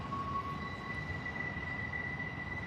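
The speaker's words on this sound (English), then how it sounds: "Another long, slow intermodal." A long, slow intermodal freight train rolls past at Horseshoe Curve, a steady continuous rumble of rail cars with faint high wheel squeal tones running throughout, no talking.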